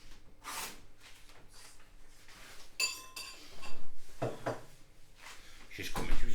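A spoon being fetched from a kitchen drawer, with a brief bright clink of cutlery mid-clip amid rustling handling noises and a few louder knocks, while people talk in the background.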